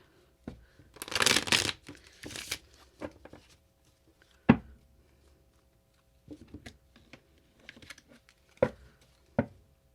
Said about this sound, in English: Just giving these an extremely, really good shuffle together.